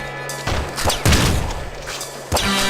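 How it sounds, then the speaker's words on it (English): Shotgun blasts from the pixel-art video game Nuclear Throne, several loud sharp bursts at uneven intervals with a steady background music hum underneath. "Shotgun."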